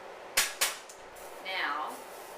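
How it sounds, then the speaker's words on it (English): A spoon stirs tomatoes, vegetables, white wine and garlic together in a pot while making sauce. Two sharp clinks against the pot come first, then a short, swirling scrape of the thick mixture, close and moderately loud. "going to stir the tomatoes into the vegetables and the wine and the garlic"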